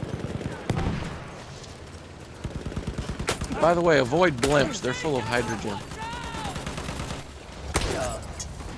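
Gunfire in the video game Battlefield 1, a few sharp shots and short bursts popping in the background beneath close, continuous talk from players.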